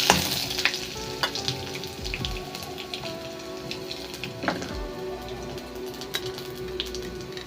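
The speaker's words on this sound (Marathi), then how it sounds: "लसण घालू, हलवून घेऊ थोडंसं" Garlic fries in a pan with cumin and mustard seeds, crackling in a steady moderate sizzle while a spoon scrapes and taps the pan several times.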